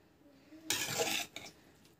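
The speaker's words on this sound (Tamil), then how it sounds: "ஸோ இந்த மாதிரி போட்டுட்டு நல்லா வந்து கொஞ்சம் கலக்கி விட்டுருங்க" Lemon rice being stirred in a pan, a burst of scraping and clattering of a utensil against the pan lasting about half a second, then a short second scrape, close and fairly quiet.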